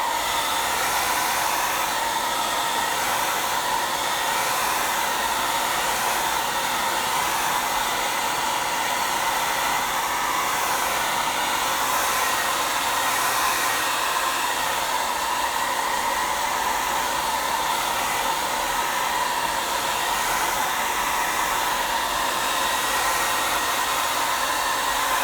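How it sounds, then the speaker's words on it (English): A hair dryer blowing over a watercolor painting to dry the first wash, a loud, steady, unbroken whirring roar that holds at one level throughout. "So I'm just gonna hair dry this, just get dry, and then we go to the second wash."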